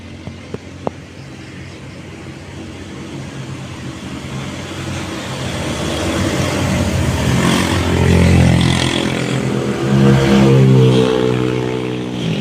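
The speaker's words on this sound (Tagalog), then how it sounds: "Maingay po dito kasi daanan po lahat ng mga sasakyan dito" Cars and motorcycles pass along a busy roadside, their engines rumbling and swelling louder toward the end as vehicles draw near, with a steady traffic drone throughout.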